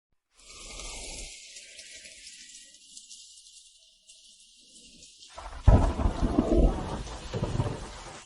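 Heavy rain pours steadily while deep rolls of thunder rumble in, building to a loud, close crash near the end; no voices.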